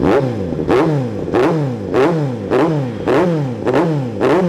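A 2017 Kawasaki Z900 motorcycle with an N Spec aftermarket exhaust revs hard in a string of sharp, evenly spaced throttle blips, each snapping up and falling back, loud and close.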